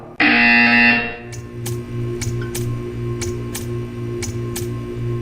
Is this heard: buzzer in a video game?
yes